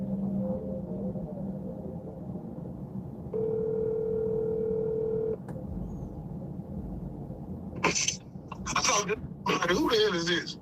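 A phone call is placed, and a steady electronic ringback tone sounds for about two seconds over a low background hum, followed by a click and then people talking.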